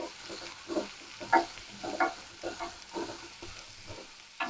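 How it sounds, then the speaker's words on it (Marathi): Chopped tomatoes and onions sauté in a pan for a Malvani black pea sambar, giving soft sizzling with stirring scrapes in uneven bursts, fairly quiet and close, with no talking. "आता हे टमाटर घालून घेत आहे आता हे पण मऊसूप होण्यापर्यंत आपण चांगलं अडकून परतून घेऊया"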